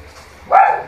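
A single short dog bark sounds out sharply after a moment of near quiet, fairly close and loud.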